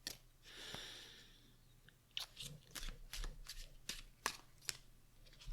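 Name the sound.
shuffling tarot cards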